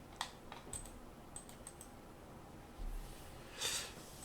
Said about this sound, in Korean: 클릭, 엔터, 클릭, 엔터입니다